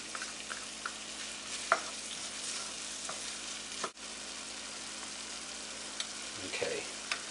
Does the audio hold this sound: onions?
yes